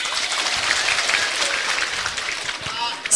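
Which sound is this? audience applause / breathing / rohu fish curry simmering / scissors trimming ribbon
audience applause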